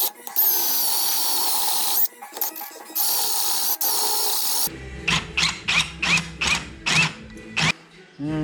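A step drill bores 5/8-inch holes through metal from both sides on a Corvette Dana 44 IRS swap into a Chevy S10. A loud, steady high-pitched whine gives way to a run of short, pulsing bites with mechanical clatter.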